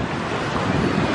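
Waves washing against the south shore of Lake Superior in Wisconsin in summer, a steady broadband surf wash with wind buffeting the microphone throughout, no talking.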